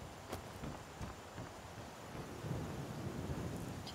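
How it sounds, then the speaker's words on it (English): Skyrim video game weather: a low, faint, continuous rumble of thunder with a soft hiss of rain, plus a few sharp distant clicks, with no voices. "Oh, don't you start raining again."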